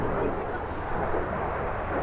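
A Polish Air Force MiG-29 jet fighter flying an airshow display, a continuous loud, rumbling jet roar with no break.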